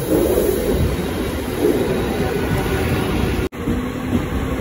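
A train in Mumbai during monsoon rain, heard as a steady, loud rumble of a moving rail car with no speech, broken by one brief dropout near the end.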